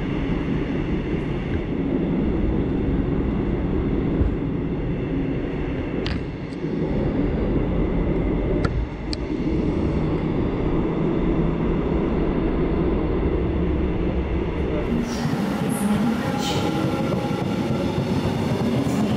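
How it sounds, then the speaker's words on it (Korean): A Suin-Bundang Line train rumbles steadily on the rails, its low roar continuous with a few faint squeals and clicks as it rolls slowly into the station platform. "제가 타야 할 열차가 천천히 승강장으로 들어오고 있었습니다"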